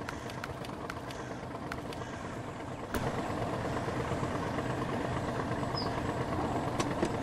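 A tractor engine in the Farming Simulator game hums steadily and close, with occasional faint clicks, and grows slightly louder partway through.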